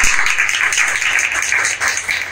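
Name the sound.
audience applause for the additional DCP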